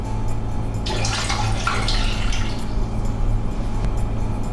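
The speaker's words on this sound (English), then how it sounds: "4 cups of cold water into the pot." Four cups of cold water pour into a cooking pot for Japanese dashi stock, a close splashing gush that swells for a couple of seconds in a quiet kitchen, then fades to low room tone.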